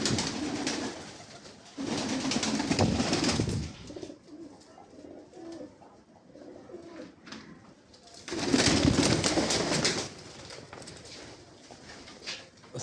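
Sirazi pigeons coo on a pigeon farm, their low rolling calls swelling loudly in two bursts with quieter cooing and faint rustling between them, close by and with no talking.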